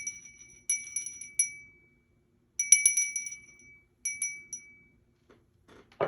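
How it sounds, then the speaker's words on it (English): A small bell rings for a tarot card reading in three separate clear, bright rounds of chiming with ringing decay, quiet gaps between them, and faint rustling at the end. "I forgot to ring the bell at the beginning of this reading, so"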